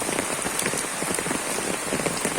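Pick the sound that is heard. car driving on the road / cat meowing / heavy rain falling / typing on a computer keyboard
heavy rain falling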